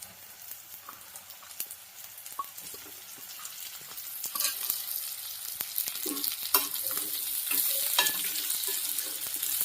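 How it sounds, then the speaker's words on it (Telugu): Bitter gourd pieces are added to onions already fried in hot oil and stirred in a pan, a close sizzle with scraping stirring strokes that grows louder and busier. "కట్ చేసి పెట్టుకున్నాం కదా, కాకరకాయలు అయితే యాడ్ చేస్తున్నాను"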